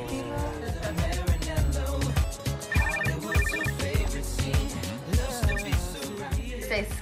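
A telephone ringing in short repeated bursts, faint and partly buried under background music and other sound.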